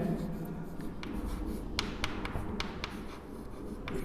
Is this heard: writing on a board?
yes